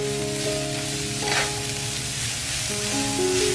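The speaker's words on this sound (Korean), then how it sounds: "센 불에서 빠르게 볶아주세요" Enoki mushrooms and green onion with oyster sauce stir-fry in a pan over high heat, giving a steady close sizzle with faint scraping and a low background hum throughout.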